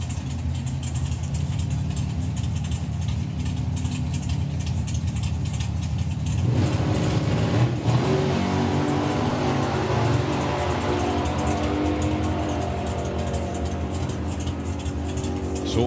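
Drag racing cars, a Superbird against a Camaro, roaring off the line at a drag strip: a steady engine rumble builds into a loud, dense launch roar about midway that carries on to the end, with no talk.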